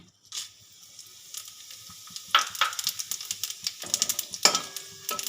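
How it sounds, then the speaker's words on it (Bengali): Two dried red chillies with panch phoron and radhuni sizzle and crackle in hot oil for shukto, a steady close frying hiss with scattered sharp pops and a few stirring clinks. "আমি এই যে ফোড়নে দিলাম দুটো শুকনো লঙ্কা পাঁচ ফোড়ন আর রাঁধুনি"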